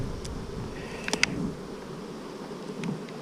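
Bees buzz around a beehive outdoors, a low steady drone with a few individual insects whirring close past, alongside small clicks and faint background noise.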